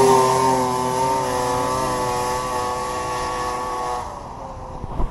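A vintage Polaris XLT 600 triple snowmobile engine runs on soft snow, a loud steady two-stroke drone that slowly fades as it pulls away, then a brief clunk near the end.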